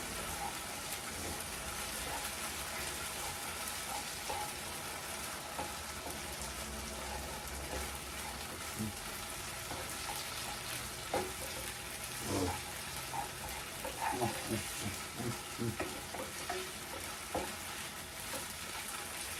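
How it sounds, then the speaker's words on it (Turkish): Kuymak with cheese and butter is stirred in a pan, a faint continuous sizzle overlaid with soft, irregular scraping and sticky stirring sounds that grow busier in the second half. "şimdi güzelce karıştırıyorum"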